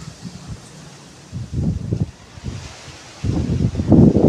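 Wind from an approaching typhoon sweeps through foliage in Batanes, Philippines, in rising gusts, leaves rustling and the microphone rumbling as the blasts build louder toward the end.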